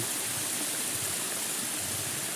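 Water pours steadily over a stone weir in a natural stream, a constant broadband rush with no breaks, fairly loud and close, with no voices.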